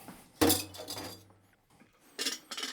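Glass jar clinking while bottling elderflower juice in a home kitchen: a sharp glassy knock with a short ringing tail, then quieter handling and two softer clinks near the end, no talk.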